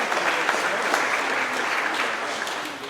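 Audience applause at a company monthly celebration for Melton Truck Lines, a dense continuous burst of clapping that fades slightly toward the end.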